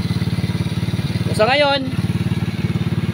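A motorcycle idles with a rapid, rhythmic knocking and clattering pulse, loud and close, while someone speaks briefly over it midway.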